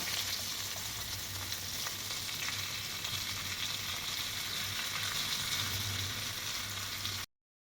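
Chopped onion and bay leaf fry in oil in a kadai, a steady, close hissing sizzle that continues evenly for about seven seconds with no talking, then stops.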